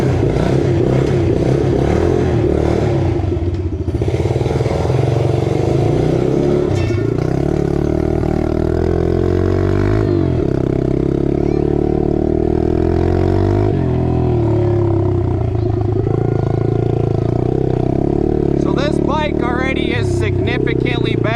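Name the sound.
2026 Yamaha 110 motorcycle engine revving, wanting to cut out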